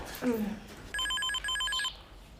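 A telephone rings in two short electronic trilling bursts, clear and fairly close, in a quiet room. A brief voice comes just before the ringing.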